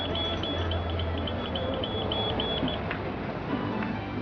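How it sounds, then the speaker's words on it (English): A shop's anti-theft alarm, triggered by an electronic garment tag, sounds as a steady string of high repeated beeps over a noisy indoor background, fairly loud and continuous for most of the clip. "this tag is electronic. It sets off the alarm."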